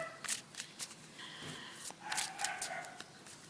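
Tarot cards being shuffled close by in quick, soft papery bursts, with brief riffles and a few snaps, fairly quiet and with no talking.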